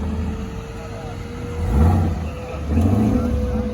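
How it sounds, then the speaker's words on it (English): A supercharged Chevrolet Camaro at a muscle car show revs up nearby in two loud bursts, rising and falling, over crowd chatter and a steady background hum. "This guy just revved this, that Camero up for me"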